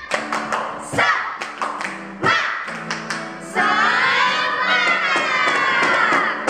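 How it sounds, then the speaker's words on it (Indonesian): Children at a Sunday school service do a rhythmic spirit clap, sharp patterned claps in bursts, followed by a sustained group shout or chant. "Oke, tepuk semangat."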